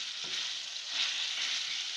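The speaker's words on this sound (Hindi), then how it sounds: "दही डालूंगी।" Yogurt goes into tomatoes already frying in a pan, and a continuous hissing sizzle holds steady for the two seconds, moderately quiet and close, with a faint soft bump near the start.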